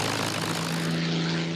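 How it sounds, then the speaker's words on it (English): A British Spitfire fighter plane with its 1,750 horsepower Merlin engine roars steadily and loudly, a dense continuous propeller drone with a strong low hum that holds throughout. "This British Spitfire roars to life."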